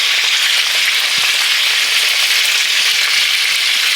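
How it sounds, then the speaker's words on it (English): Crushed garlic frying in oil alongside lamb chops, a loud, dense and continuous sizzle held close for the whole stretch, with no voices. "just crush a piece of garlic with my hand like that and just throw it in the fry"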